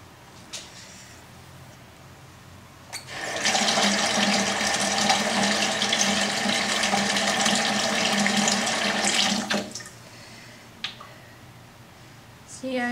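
A household tap turns on and runs in a steady, full gush for about six seconds while something is washed off under it, then shuts off, leaving quiet handling sounds.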